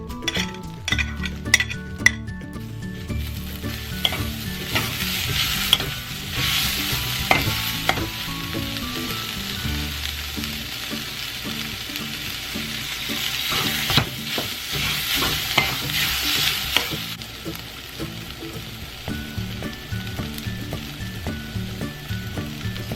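Seitan with onion and garlic stirred and frying in a pan, a steady sizzle under repeated scraping and clinking of a utensil against the cookware, continuous and close with no talking.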